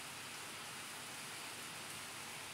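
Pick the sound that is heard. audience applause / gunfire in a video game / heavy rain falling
heavy rain falling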